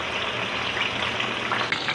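Chili, shallots and kencur frying in hot oil for Indonesian sambal, a dense steady sizzle heard close up with no voices.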